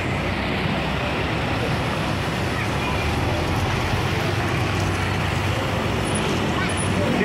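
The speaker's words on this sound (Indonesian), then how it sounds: "Ini ada 27 Trans Nemesis diberangkatkan teman-teman" Trans Nemesis buses arrive at and depart from the busy Pondok Pinang bus terminal, giving a dense, continuous wash of idling and moving bus engines and road traffic, with voices blended into the din.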